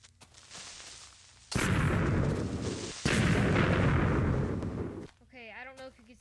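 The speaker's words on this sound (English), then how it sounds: "with this creeper party, I will show you the new explosion" Several Minecraft creepers explode in quick succession in the 1.8 pre-release, two heavy booming blasts each trailing into rumbling debris noise, followed by a voice speaking at the end.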